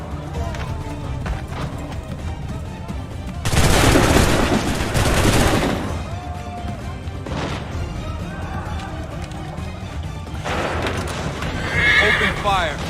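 Musket volleys from Assassin's Creed III break out as two dense, loud bursts of crackling gunfire, mixed with horses neighing and hooves clopping, and voices shout commands over the battle.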